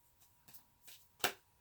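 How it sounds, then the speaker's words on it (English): Tarot cards are shuffled by hand at close range in a few soft, papery bursts, the last one the loudest and crispest. "And just do a little more shuffle."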